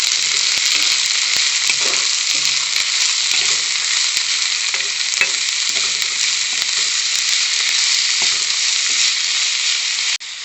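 Shredded cabbage sizzles and fries steadily in a hot pan for chowmein, a loud continuous crackle with occasional stirring scrapes and no talking throughout.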